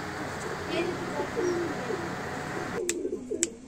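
Low, throaty cooing comes from a loft of Madrasi highflyer pigeons, rising and falling in soft repeated phrases under muffled background voices, with a couple of sharp clicks near the end.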